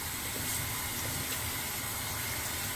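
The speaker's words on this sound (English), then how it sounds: "I may just rinse this off and start over." Water runs steadily from a tap, rinsing soap off a shaving brush at a sink, a continuous soft splashing gush heard close and alone for the whole stretch.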